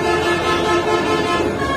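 Dense street traffic roars at the crowded Kaptan Bazar pigeon market, a loud continuous wash of engines with a sustained horn tone running through it.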